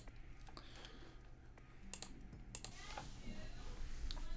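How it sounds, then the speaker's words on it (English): Keys tapped on a computer keyboard in a video game, a quick run of close, light clicks over a soft background hum. "Tried a few different passwords on the keyboard, but none of them worked."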